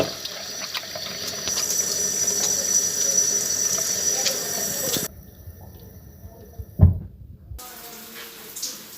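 Hands are washed under a running tap, with a steady rush of water splashing into a sink that stops abruptly. A short clunk and quieter dripping follow.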